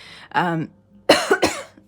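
A couple of short, rough coughs close to the mic, following a brief voiced sound, each burst harsh and breathy.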